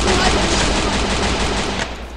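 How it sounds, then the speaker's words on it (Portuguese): Rapid bursts of gunfire fill a shooter video game, with dense, continuous automatic shots at close range throughout. "Tá muito tiro, tá um tiro."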